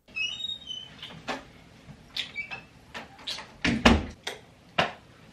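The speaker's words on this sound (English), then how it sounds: "Someone's knocking at my door." Knocking at a house door, a series of sharp raps in uneven clusters over several seconds, fairly close and alone with no talking.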